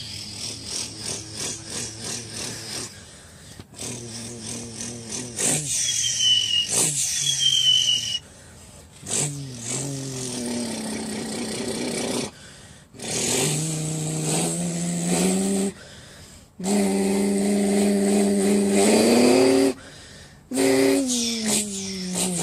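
A human voice imitates vehicle engines, among them a green Zanello 500 tractor, with bursts of droning, revving harmonic tones that rise and fall. Separate vocal engine noises come up close and loud, broken by short pauses.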